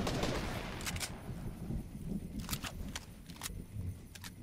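Rapid bursts of gunfire from a weapon in a video game, sharp repeated cracks over a dense low rumble, loud and close with no voices.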